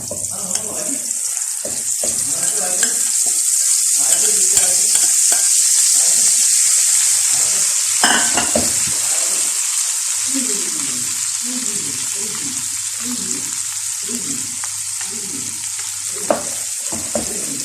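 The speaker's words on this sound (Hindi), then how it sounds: "अब ये ऑयल गर्म हो गया, हम ऑयल में डाल देते हैं।" Ground chana dal sizzles loudly in hot oil for a sweet halwa, with a bright, steady hiss and rhythmic stirring strokes that repeat in quick clusters. Close and continuous, with no talking.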